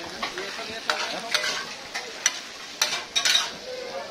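Chicken chaap frying at a night street food stall, a steady close sizzle broken by sharp scraping and stirring clatters of a utensil against the pan, with no talk.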